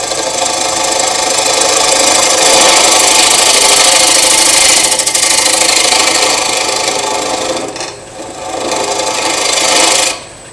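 A scraping tool cuts a wooden bowl spinning on a woodturning lathe, producing a loud, continuous rasping and whirring drone that briefly eases and returns before stopping near the end.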